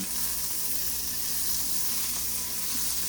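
A tablespoon of butter sizzling and browning in a pan, a steady, loud, close hiss with fine crackling throughout and no talking.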